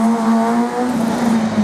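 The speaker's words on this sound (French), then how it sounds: "Clément Le Catiné en piste" Race car engine holding a steady high drone at close range on a slalom course, loud and continuous with a faint hint of tire noise.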